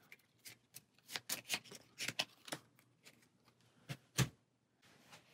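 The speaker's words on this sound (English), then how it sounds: "we do some shuffling over here" Playing cards being shuffled for a Gloomhaven board game, heard close up as a sequence of sharp riffling snaps and flicks in irregular clusters, quiet overall with one louder thump near the end.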